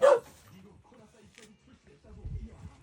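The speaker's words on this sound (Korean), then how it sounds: "원래 진돗개는 주인한테만 저렇게 짖는 애는 안 무는데?" A Jindo dog gives one sharp, close bark, followed by quieter whimpering and low vocal sounds.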